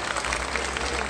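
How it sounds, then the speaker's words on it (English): Audience applause at a comic convention panel with an actor, a steady wash of clapping from a crowd that holds evenly throughout without pause. "You can clap."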